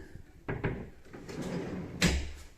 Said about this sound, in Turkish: bakın şu çekmecelerin güzelliğine bakın. Bak tık kapanıyor.